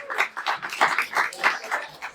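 An audience at an artists' panel applauds the panelists, with a short burst of close, rhythmic clapping from a small crowd.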